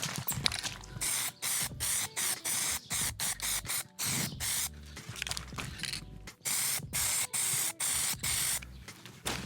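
Aerosol spray paint applied in red to a car brake caliper and caliper hanger, close loud hissing bursts of about a second each separated by short gaps, repeated many times in a steady rhythm.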